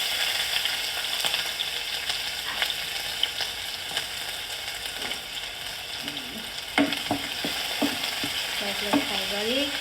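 Sliced onions fry in hot smoking oil while being stirred, a constant close sizzle with scraping spoon strokes and scattered clinks against the pan, no voices.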